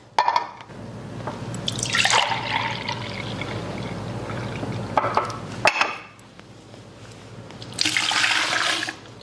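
Pineapple juice pours steadily into a container, liquid splashing and gurgling for several seconds, pausing briefly before a second pour, with faint clinks of a glass or pitcher.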